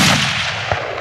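A single loud, close hunting rifle shot rings out during a South African safari hunt, a sharp blast with a rolling boom that decays over the second.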